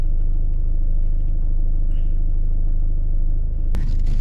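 Rover 75 Tourer diesel car rolling downhill in sports mode, a steady low engine and road rumble heard from inside the cabin, continuous and fairly loud, with a brief sharp click near the end.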